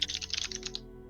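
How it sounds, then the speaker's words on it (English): Fast, close clattering keystrokes on a mechanical keyboard, a quick burst of crisp clicks that pauses briefly before one last tap. "A mechanical keyboard."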